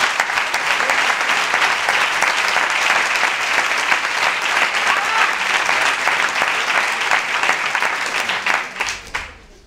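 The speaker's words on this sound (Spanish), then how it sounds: "Un fuerte aplauso para Xavier Barcón." Strong, steady audience applause fills a comedy club hall during a science comedy show, loud and continuous for about nine seconds before fading out quickly at the end.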